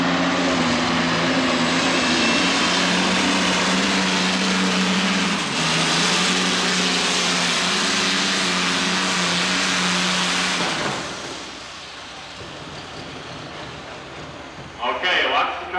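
Twin Allison V12 aircraft engines in a 9,200-pound open-class pulling tractor roar loud and steady for about ten seconds, then the pull ends and they wind down to a low idle, with a brief louder burst at the end.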